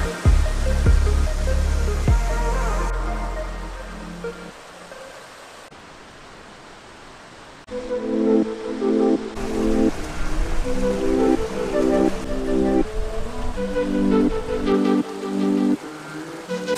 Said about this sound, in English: So we made it to the furthest waterfall here at Fish Camp Falls.